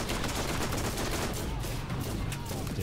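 Sustained SMG fire in the Borderlands video game roars without pause, a dense, loud volley of rapid shots that fills the whole stretch with no voices on top.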